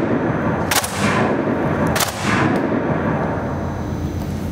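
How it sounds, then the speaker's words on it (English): SAR 21 assault rifle fired at a shooting range: two loud, sharp reports about a second apart, each with a rumbling echo that trails off, and no voices. "Pull, hover, release, continue firing."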